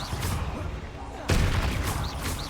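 Incendio fire spell cast in Hogwarts Legacy, a loud burst of crackling, whooshing flame that surges sharply midway and keeps roaring to the end, with faint chimes over game background noise.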